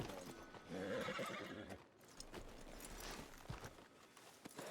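A horse whinnies loudly in a role-play video game, followed by clip-clopping hooves walking at a steady pace, with no talking over it.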